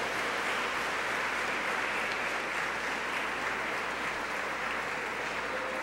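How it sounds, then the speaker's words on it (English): Audience applause at a religious gathering, dense continuous clapping held at an even level throughout. "Give yourselves a round of applause."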